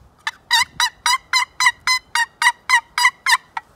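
A human voice imitates a wild turkey gobble with about twelve rapid, evenly spaced, rattling bursts close to the listener, loud and alone with no talk over it.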